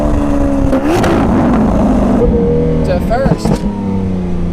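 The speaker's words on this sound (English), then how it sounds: "when you downshift from third to second, and then maybe from second" A Lamborghini Aventador S Roadster's engine roars loud and close while downshifting on a suburban street, its pitch climbing in sharp blips around mid-clip, with someone talking over it.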